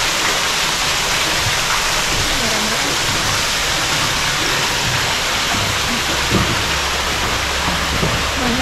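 Steady, dense rush of splashing water from an artificial waterfall into a fish pond, pouring continuously, loud and close, with faint voices underneath.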